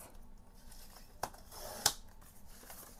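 Scissors snip paper twice, two short sharp cuts close by in a quiet room, part of trimming pages for an altered Little Golden Book journal.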